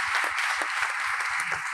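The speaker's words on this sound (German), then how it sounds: "Das Foto wird noch besser, wenn ihr alle klatscht." An audience at an award ceremony in Paderborn applauds steadily. Moderate, fairly even clapping runs throughout with no speech over it.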